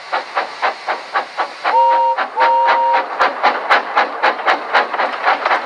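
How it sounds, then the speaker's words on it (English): Thomas the Tank Engine puffs along with rhythmic steam chuffs and hisses, sounding two short whistle toots midway before the chuffing continues, close and loud. "Thomas likes to tease Gordon with his whistle."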